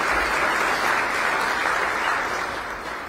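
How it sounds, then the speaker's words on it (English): An audience at a State of the County address at a hotel luncheon applauds the hotel staff, a thick, steady wash of clapping from a large crowd that tapers slightly toward the end. "Let us acknowledge the hotel staff for their service today with their round of applause."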